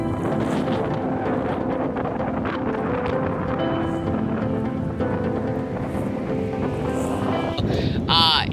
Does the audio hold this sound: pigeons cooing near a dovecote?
no